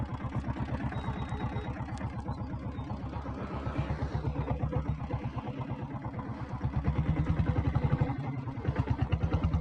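Diesel Royal Enfield Bullet motorcycle engine running with an even, rapid thumping beat, close and steady throughout with no talk.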